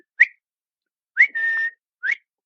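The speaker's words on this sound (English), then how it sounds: "And every day I would do this whistle." A person whistles to call a dog during a game of fetch: three short rising whistle notes, the middle one holding a long steady tone, close and clear with no other sound.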